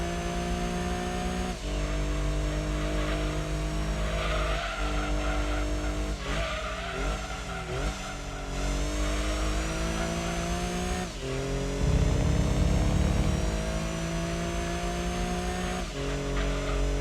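Racing car engine in Gran Turismo 2 held at high revs, with sustained harmonic drone, brief gear-shift dips and a burst of tire skid noise partway through.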